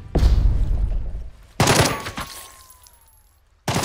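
Overwatch gunfire in Jagged Alliance 3, with three loud separate bursts of shots, each followed by a long decaying echo, and a gap of quiet between them.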